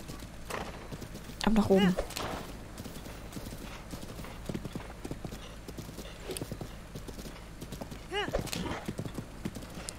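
Horse hooves clip-clop steadily in The Legend of Zelda: Breath of the Wild, a rhythmic in-game gait running throughout, with a brief neigh and someone talking over it.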